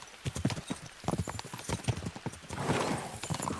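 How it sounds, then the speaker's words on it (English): Horses gallop in the video game Kingdom Come Deliverance II, a fast, rhythmic clip-clop of hooves that stays fairly quiet and close, with a rising rush of movement near the end. "We should spur the horses on."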